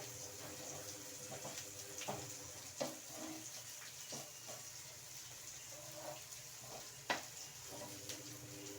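Faint, quiet sizzling of elephant foot yam slices roasting in a pan, a soft steady crackle with scattered small pops and a low background hum.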